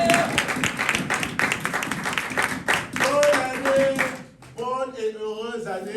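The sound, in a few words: congregation applause in church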